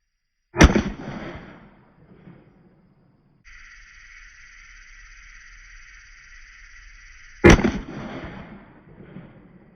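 Two sharp, loud shots from a Springfield Armory XD-M Elite 10mm pistol, spaced about seven seconds apart, each followed by a short echoing decay. A steady hum fills the gap between them.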